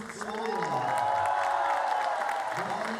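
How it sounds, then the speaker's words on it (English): A large arena crowd cheers and applauds loudly for Slovenian gymnasts at a men's World Challenge Cup gymnastics event in Koper, a sustained roar that swells and then eases. "A big cheer for Slovenian gymnasts there."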